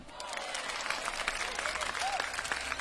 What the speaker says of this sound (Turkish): baştan alkışlayayım.